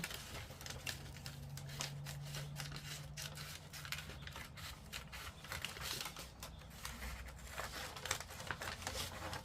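Scissors cutting out big folio paper sheets, a quick rhythmic series of close crisp snips with faint paper rustling between strokes, repeating steadily throughout.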